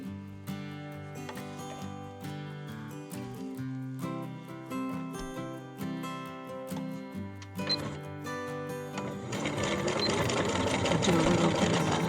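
Sewing machine stitching through two thick layers of felt, the needle running in a fast even chatter that continues steadily, then grows louder and busier toward the end.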